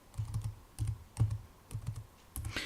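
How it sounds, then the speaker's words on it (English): Keys clatter on a computer keyboard while a password is typed in Ubuntu, in quick irregular bursts of soft, close clicks with brief pauses between them. "type in my password"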